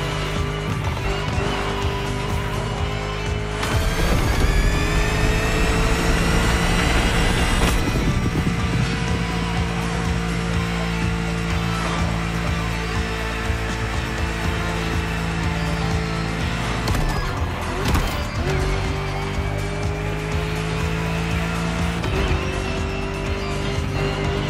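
A V8 muscle car engine from The Crew Motorfest, a racing game, roars loud and steady throughout, its pitch climbing and falling with shifts and revs and briefly dipping to a lower drone before building again.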